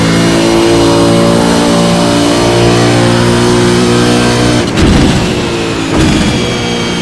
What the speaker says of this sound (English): Post-race burnouts.